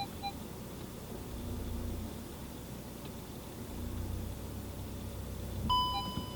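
A Volkswagen Touran's park assist gives a brief electronic chime tone near the end, faint over a low steady engine hum and soft road noise inside the car.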